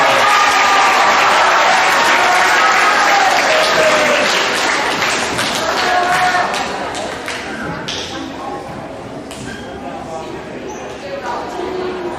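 Assembly audience at a middle school awards ceremony applauding seventh grade honor roll students, steady loud clapping from a crowd that gradually thins and fades, with a few voices and cheers mixed in.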